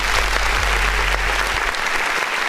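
Applause effect dropped into an independent-artist music review show, a dense steady clapping wash over low background hum, loud and continuous throughout.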